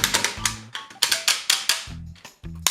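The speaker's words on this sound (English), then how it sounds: "Nice old clickety ratchets." A Hello Carbot Pentastorm transforming toy robot gives off sharp, clickety plastic ratchet clicks as its joints are moved, in quick uneven bursts with a few pauses and soft handling thumps in between, close and clear.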